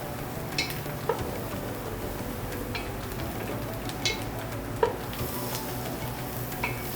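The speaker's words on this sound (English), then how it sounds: "And then we're just gonna saute those a little bit." Hedgehog, chanterelle and cremini mushrooms sauté in a pan with a steady soft sizzle, broken by occasional light scrapes and taps of a utensil stirring them, close and without speech.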